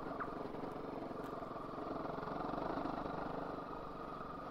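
A Honda CRF250 Rally motorcycle rides off-road on a forest trail at a quick pace, its engine a steady, muffled mid-pitched drone heard from onboard, with no talking.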